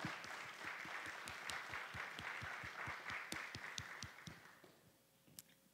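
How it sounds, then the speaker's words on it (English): Applause from a congregation at a church worship service, a dense patter of clapping that holds steady, then thins out and fades to a few last claps. "let's give him a round of applause."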